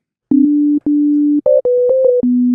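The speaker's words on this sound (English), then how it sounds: "Now we're just getting the sine wave." A synthesizer oscillator sounds a pure sine-wave tone, played as a short run of clean sustained notes at a few different pitches, each starting and stopping abruptly with brief gaps.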